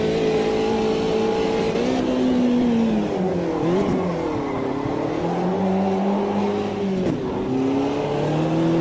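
A race car engine in the Automobilista 2 racing game revs and drops in pitch through a downshift, a steady loud drone with sharp blips as gears change, continuous throughout with no talk.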